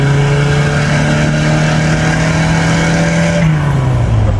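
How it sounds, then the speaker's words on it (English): A turbocharged MGB engine under high boost runs loud and close with a rough, uneven drone that briefly sags near the end, like a slight misfire. No one talks. "Sounds like it's like misfiring a little bit."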